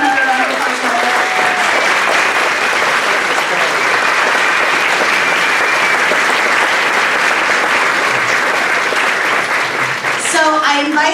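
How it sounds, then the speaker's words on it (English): Sustained audience applause fills a school gymnasium during a Veterans Day assembly, steady and loud throughout, with a brief voice breaking in near the end. "Let's give another round of applause."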